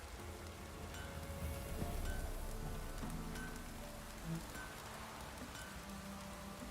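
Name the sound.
heavy rain downpour in The Witcher 3 video game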